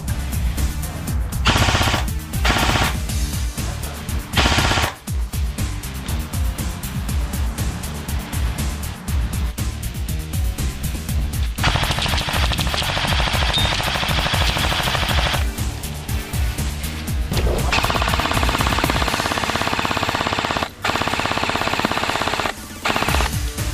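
Continuous automatic fire from an A&K airsoft medium machine gun, a PKM-style pulemyot, rattling in loud sustained bursts with brief pauses, mixed with other field noise during an outdoor airsoft game.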